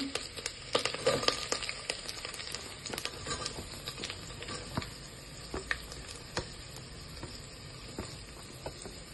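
Onions fry in a pan, giving a light, continuous sizzle broken by frequent crisp pops and crackles, livelier at the start and thinning out toward the end.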